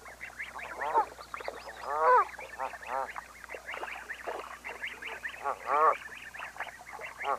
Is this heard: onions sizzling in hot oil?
no